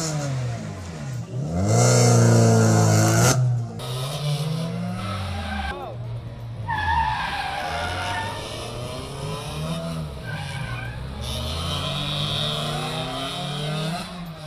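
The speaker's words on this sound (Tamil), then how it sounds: "சீறி கொண்டு சாலையில் வட்டமடித்த கார்களை கண்டு ரசித்த பார்வையாளர்கள்" Cars tear around a race circuit during a stunt show, engines roaring and rising in pitch with repeated loud revving and tire skids that run continuously and close throughout.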